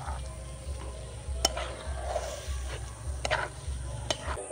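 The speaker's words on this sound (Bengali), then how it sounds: "দুধটা দিয়ে দিয়েছি, খুব ভালো করে এবার আমি মিশিয়ে নেব।" Milk is stirred into mango pulao in a pot: a soft spoon scraping and swishing through the rice with faint sizzling underneath, quiet, with a few sharp clinks of utensil against the pot.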